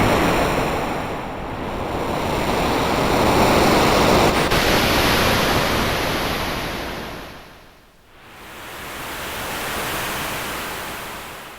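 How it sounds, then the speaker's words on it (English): A massive roaring tidal wave in the video game Chrono Trigger surges and crashes, a broad rushing wash that swells, briefly dips, then rises again, loud and alone. "A tidal wave!"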